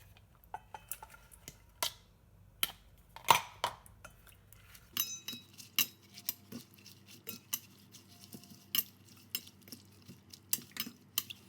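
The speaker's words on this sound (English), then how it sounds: "So I'm going to go ahead and put all the carrots in." Carrots dropped piece by piece into a bowl, giving a run of sharp little clinks and taps, close and clear, with no talking.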